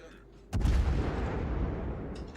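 A warship naval gun fires in a naval battle game, one heavy booming shot that rolls into a long decaying rumble, loud and close, with faint electronic game sounds before and after.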